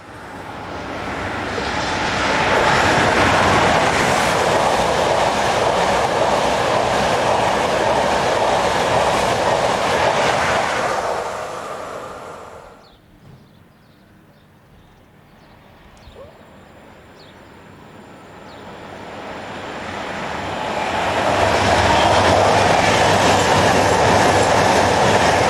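Italian trains near Castel San Pietro, locomotive 633221 passed by 444005: a loud roar and rumble of one train that fades to a quiet lull around the middle, then a second train swells in and thunders past.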